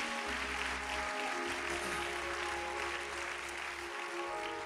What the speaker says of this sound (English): Let's give them a hand clap of appreciation for working so hard.